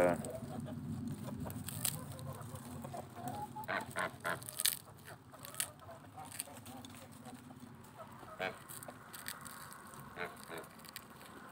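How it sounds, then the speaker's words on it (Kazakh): Backyard hens cluck and squawk in irregular bursts nearby, with a voice speaking intermittently and goose-like honks mixed in. "Қазір міне осы тауықтарым"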